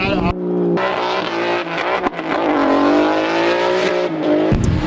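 A drift car at a Drift Colorado competition revs hard and holds a loud, sustained high engine howl with brief gear-change dips, close and dominant.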